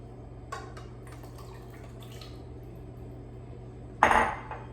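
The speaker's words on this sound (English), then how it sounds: "So just add raspberries to water." Raspberries drop into water in a regular pot on a stove: scattered light clicks and taps early on, then one louder, close splash-and-clatter near the end over a steady low hum.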